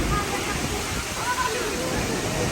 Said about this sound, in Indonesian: Sekarang kita berada di lokasi air terjun